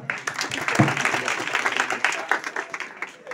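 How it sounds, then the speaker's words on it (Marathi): A school audience applauds a student during a Class 10 mathematics lecture-series event, dense steady clapping filling the whole stretch at moderate level, with some voices mixed in. "साहिलसाठी जोरदार टाळ्या स्वागत करा."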